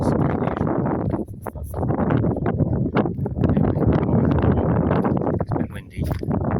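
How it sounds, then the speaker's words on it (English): Steady wind rushes across the microphone, buffeting it continuously while someone speaks over the noise. "it's a bit windy."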